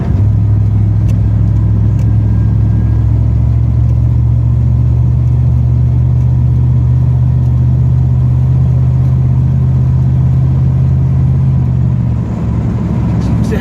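A 1938 Chevrolet Master Deluxe cruising at about 55 on a two-track dirt road, its engine holding a steady, loud low drone with continuous road rumble throughout.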